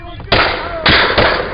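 Gunshots fired close by during a tense confrontation: three sharp, loud bangs with short ringing tails, spaced irregularly across barely two seconds, each one cutting abruptly over the background.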